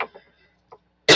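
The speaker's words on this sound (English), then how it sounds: "a little cough going on here" A single sharp, loud cough bursts out at the end, after a few faint breathy throat sounds from a woman. It is close and harsh.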